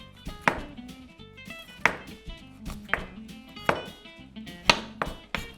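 A sharp knife trims and cleans an artichoke stem for tagliatelle, giving five crisp chopping knocks against a board about a second apart, close and fairly loud, with faint clinks between.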